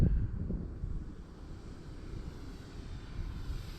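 An E-flite Clipped Wing Cub electric RC plane makes a low, slow flyby, its faint motor drone blending with steady outdoor wind noise, with no talking.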